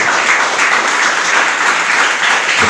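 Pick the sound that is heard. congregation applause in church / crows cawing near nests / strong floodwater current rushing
congregation applause in church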